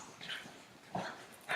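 Small dogs give a few short, faint yips and whimpers at a distance, spaced apart in quiet surroundings.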